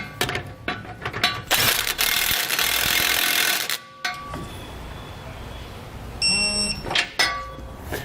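A ratchet clicks rapidly and loudly while tightening the bolts of a TorkLift SuperHitch trailer hitch receiver, then gives sparser clicks and metallic clanks up close.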